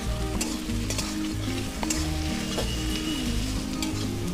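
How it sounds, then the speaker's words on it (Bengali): Prawns with tomato and onion, seasoned with turmeric and salt, frying in a pan with a steady loud sizzle and occasional stirring scrapes throughout, under a background of music. "এর সঙ্গেই সুন্দর ভাজা ভাজা হয়ে যাবে চিংড়ি ও টমেটো ও পেঁয়াজ।"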